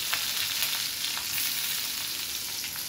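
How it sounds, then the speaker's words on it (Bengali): Onions fry in hot oil in a pan, giving a steady close sizzle with faint stirring scrapes and small crackles, continuous and unbroken. "পেঁয়াজগুলো ভেজে নেব ভালো করে"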